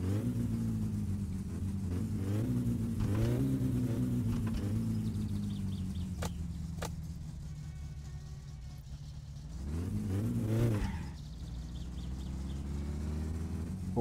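Car engine in the video game My Summer Car, running steadily with a low rumble, then briefly revving up and settling back to idle, moderately loud, with faint clicks in between.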